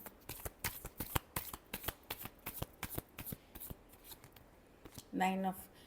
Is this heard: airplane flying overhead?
no